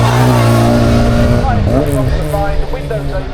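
A 1962 Austin Mini Cooper with a 997 cc engine, a pre-1969 road-going car at a hill climb, revs loudly and close up in a strong harmonic drone that dips and rises partway through, with a voice talking over it.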